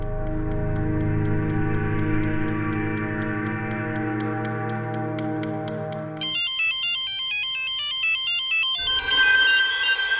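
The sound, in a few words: phone ringtone ringing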